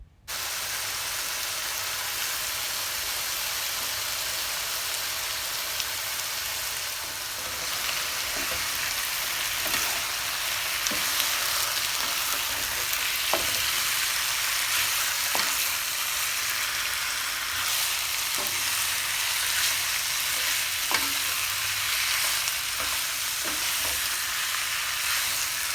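Jamaican-style boneless curry chicken and vegetables sauté in a pan with a steady, hissing sizzle and occasional faint stirring clicks, no one speaking.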